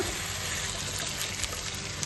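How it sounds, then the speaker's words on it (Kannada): Continuous rushing water pouring steadily into a pan of chicken, a dense gushing wash of sound heard up close for a couple of seconds. "ಚಿಕನ್ ಬೇಯೋದಕ್ಕೆ ಬೇಕಾದಷ್ಟು ನೀರು ಹಾಕ್ಕೊಂಡು"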